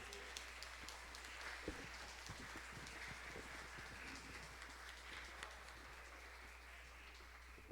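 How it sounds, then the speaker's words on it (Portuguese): A church congregation claps hands together in praise during a family worship service, a dense steady patter of many hands continuing evenly throughout, with faint background murmur. "As palmas louvam o Senhor."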